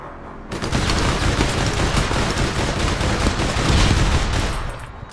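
Rapid bursts of gunfire from the online shooter game APB Reloaded, loud and continuous, forming a dense sustained fusillade for most of the stretch.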